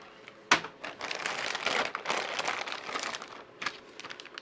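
Plastic parts bag from a Tekno SCT410SL RC kit crinkles and crackles close by, opening with a sharp rustle and then running on as steady handling noise, with a few brief crunchy bursts near the end.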